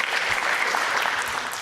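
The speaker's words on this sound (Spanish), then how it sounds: "Dale fuerte el aplauso a Cristo porque Él es misericordioso para su pueblo" A church congregation gives a brief burst of loud, dense applause, a short continuous wash of clapping lasting under two seconds.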